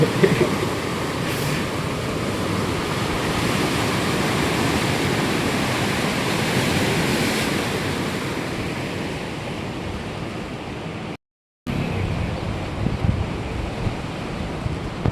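A flooded river swollen by heavy rain rushes under a bridge in a steady, loud, roaring wash that carries on for the whole stretch, broken only by one brief dropout near the end, with no voices.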